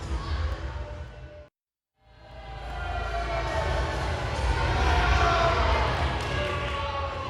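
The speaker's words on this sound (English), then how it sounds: "We'll let you hear a little bit more of that booing that he gets when he poses with his belt on the top of the turnbuckles" A wrestling arena crowd boos a champion wrestler posing with his belt on the turnbuckles, a sustained roar of jeers that drops out briefly and then swells back louder and steadier.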